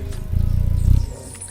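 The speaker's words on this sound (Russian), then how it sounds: "Ребята, вы слышите звук крыльев?" A low, fluttering buzz of tiny wings swells and fades up close over about a second, like a small bird hovering near the microphone.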